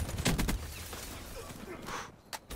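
Gunfire in Black Ops 3 multiplayer comes in a quick burst of sharp shots at the start, then a low, noisy rumble with a few isolated shots later on.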